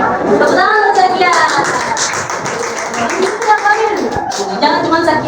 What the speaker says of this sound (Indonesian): Tepuk tangan untuk Zakia.